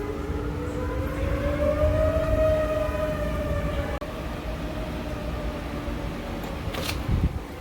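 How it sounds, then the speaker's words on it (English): Tornado warning sirens wail outdoors with a rising and falling tone, steady and moderately distant, alongside a low rumble of background noise. "Sirens have started."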